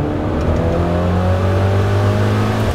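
Loud, close engine roar rising steadily in pitch as a supercar accelerates hard on a race track, continuous and intense throughout.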